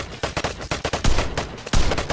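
Shotgun and other gunfire in the online shooter game Vigor: a rapid run of loud, close blasts with sharp attacks, including several heavy booming shots, coming one after another with no speech.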